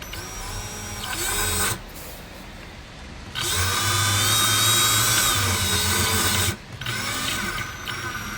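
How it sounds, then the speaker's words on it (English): A power drill pre-drilling holes in a 12-foot jon boat whirs in two sustained bursts with a short pause between, close and steady, followed by quieter mechanical whirring. "Pre-drill a little bit."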